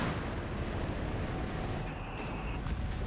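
Grenade blasts in a video game battle, a dense, noisy barrage of muffled explosions and gunfire sounding faint and continuous over the short stretch.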